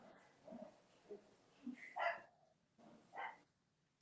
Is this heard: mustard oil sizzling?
no